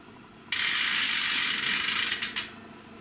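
A ZTTO clipless bicycle pedal is spun by hand, giving a loud, close, steady whirring with a fine ratcheting buzz that slows and fades in a few last ticks.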